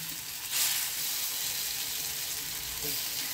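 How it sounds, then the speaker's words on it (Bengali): Gentle frying sizzle that swells briefly as pieces go into hot oil, then settles into a soft, even hiss. "প্যানের তেলটা গরম হয়ে গেছে, এগুলো এর মধ্যে দিয়ে দিচ্ছি। অল্প তেলে ভাজতে হলে এইভাবে করতে হবে"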